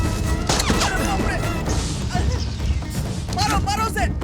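Gunfire in a Hindi dubbed movie: bursts of shots and crashes in a dense action scene, loud and continuous, mixed with shouting voices.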